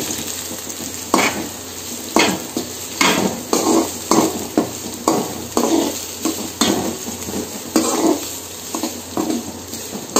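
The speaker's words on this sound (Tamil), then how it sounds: "இது கூடவே கருவாப்புல பச்சை மிளகாய் இத நல்லா ஃப்ரை பண்ணிக்கலாம்" Curry leaves and green chilies fry in hot oil in a pan, a dense sizzle punctuated by regular, rhythmic scrapes and clanks of a spatula stirring against the metal.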